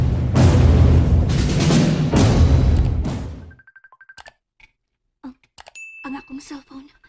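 A cellphone rings with a quick run of short electronic beeps and chimes, following a loud, busy stretch of sound and then sounding alone in a quiet room.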